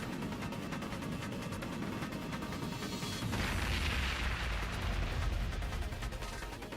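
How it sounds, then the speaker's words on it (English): Long-range shoulder cannon fire in the video game Trails of Cold Steel II: a dense, sustained rumble of blasts and crashing impacts that grows heavier partway through, loud and continuous without talk. "Is that a long-range shoulder cannon?"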